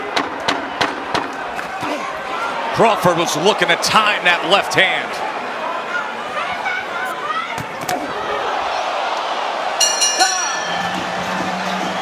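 A boxing arena crowd buzzes with a steady roar during a title fight, the murmur swelling and surging beneath a commentator's voice throughout.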